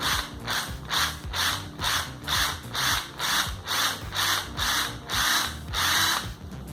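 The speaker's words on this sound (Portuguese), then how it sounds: "Então vou apoiar bem em cima, usar o nosso escariador." Countersink bit in a drill boring a screw recess into an MDF board, a loud rhythmic ratcheting whir cycling in about nine even pulses close up, with no talking.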